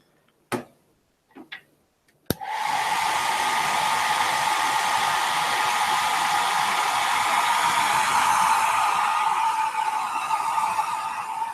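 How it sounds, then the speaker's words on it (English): A few sharp clicks, then a hair dryer switches on and roars steadily at close range, a loud continuous whoosh with no talking. "So let's put the hairdryer on."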